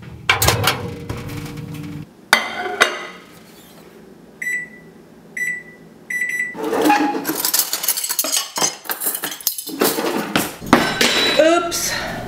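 Dishes and cutlery clatter in a kitchen, with a fork dropped among them and microwave beeps in between; voices talk over parts of the clinking.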